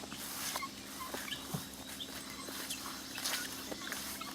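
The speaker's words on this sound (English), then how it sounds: "There's the rooster. We got some guinea hens in there." A rooster and guinea hens in a farm garden give faint, scattered calls and clucks over a low steady background hum, distant and quiet, with no talking.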